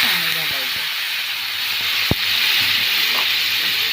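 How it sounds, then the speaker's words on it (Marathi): Water poured onto onion garlic masala and Byadgi chillies frying in a pan sets off a loud, steady hiss of sizzling and steam that stays close, with a few faint clinks of stirring. "घालून छान फ्राय करायचं। थोडंसं पाणी घालायचं।"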